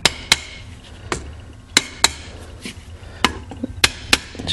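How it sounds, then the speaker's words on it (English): A brass hammer taps on a 1971 Camaro SS carburetor to free a stuck part during cleaning and rebuild, giving sharp, close metallic knocks in an irregular run of about nine strikes over a quiet background. "I'm going to have to grab either a brass hammer"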